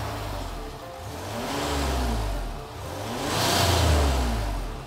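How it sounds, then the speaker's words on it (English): A 2018 Land Rover Range Rover HSE's 3-liter turbocharged V6 diesel starts and revs up and settles, then swells again, a deep throaty rumble rising and falling in two broad surges. "a 3-liter turbocharged V6 diesel. Igniting it provides the expected Land Rover drama."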